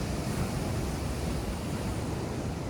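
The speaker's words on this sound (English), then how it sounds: "So this is the beach of Es Cana" Steady broadband wash of surf breaking on Es Cana beach in Ibiza, a continuous close roar of waves with some wind noise on the microphone and no talking.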